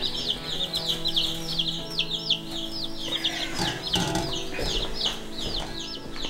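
Delaware chicks cheep in a rapid, repeated chorus of high peeps close by, with occasional louder clucks, wing flutters and scuffling in the middle, no talking.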